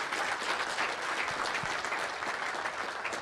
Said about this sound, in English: So I'd just like another round of applause